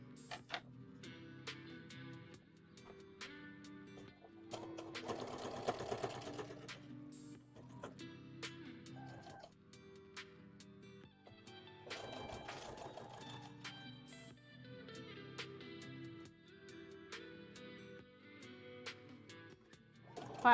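A sewing machine stitches fabric for an owl bear plushie, with a steady mechanical ticking broken by two longer, louder whirring runs. It is heard alone, without speech.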